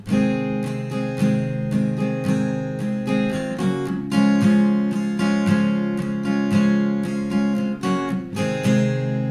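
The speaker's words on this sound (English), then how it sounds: "And then the other way of doing it without the percussive strumming sounds like this." Acoustic guitar strummed steadily in a regular down-up pattern without percussive hits, playing chords from a song, full and continuous at close range with no voice over it.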